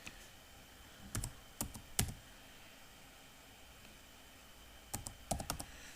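Someone types a one-time passcode on a computer keyboard in two short bursts of quick, close key clicks separated by a pause, with no talking.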